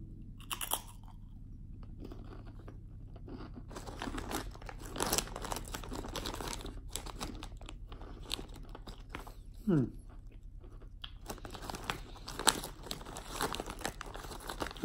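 Someone bites into a crunchy Japanese cracker shaped like a rice ball and chews it with crisp, crackling crunches close to the mic. A packet crinkles at the start and there are brief pauses.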